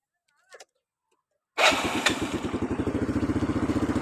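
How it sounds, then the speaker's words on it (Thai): A motorcycle engine starts abruptly after a short blip, then settles into a loud, steady, close-up idle with a rapid pulsing rhythm. "เดี๋ยวลองฟังเสียงเครื่องกันทีละคันเลยครับ"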